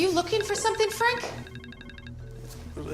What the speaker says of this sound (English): it's music coming from my personal phone